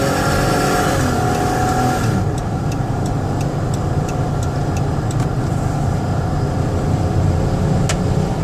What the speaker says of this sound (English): drive them hard so you can hear the engine run and the transmission shift